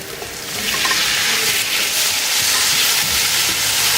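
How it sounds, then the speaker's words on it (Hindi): Small boneless chicken pieces fry in a hot pan, and a loud, steady sizzle swells up within the first half second and then holds, hissing without a break. "इसको अच्छे से फ्राई करेंगे तब तक के लिए जब तक इसका कलर पिंक से वाइट नहीं हो जाता।"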